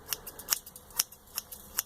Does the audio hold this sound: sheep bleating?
no